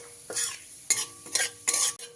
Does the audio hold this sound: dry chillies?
yes